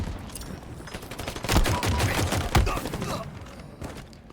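Gunfire in the video game Halo Infinite, rapid bursts of automatic shots cracking in quick succession with a few heavier thumps, moderately loud amid game ambience.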